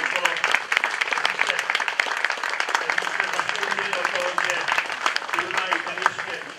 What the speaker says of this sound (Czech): tak poprosím jeden velký potlesk pro celý rezort